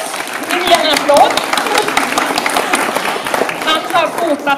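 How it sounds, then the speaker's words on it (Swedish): An indoor audience applauds, a dense crowd clapping that runs steadily through the whole stretch at a fairly loud level. "Vi ger en applåd."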